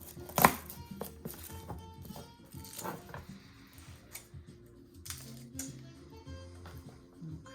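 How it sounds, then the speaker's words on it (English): Knife mincing mushroom stems on a cutting board for Italian sausage stuffed mushrooms, a quick series of light, close chopping taps with one sharper knock near the start, over low kitchen background noise. "I like to mince them right inside my onion there."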